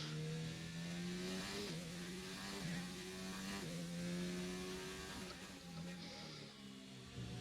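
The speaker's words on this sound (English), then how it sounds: "You know we're getting close when you can hear his engine." Race car engine from the F1 2019 video game during a Russian Grand Prix race, a steady high whine with shifting pitches and gear-change dips, continuous and moderately loud with no talking.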